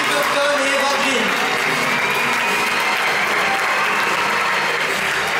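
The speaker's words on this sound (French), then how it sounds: "un tonnerre d'applaudissements pour Tim Burton et Eva Green" Dense, sustained audience applause at a film premiere welcoming Tim Burton and Eva Green, loud and even from start to finish, with crowd voices mixed in.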